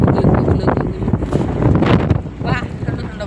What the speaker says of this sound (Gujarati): વાહ ઠંડો ઠંડો પવન આવ્યો જો